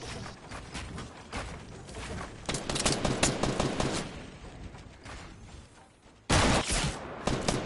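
Rapid gunfire bursts in the VR video game Fortnite, clattering in dense automatic volleys that come and go, with a loud sharp burst near the end.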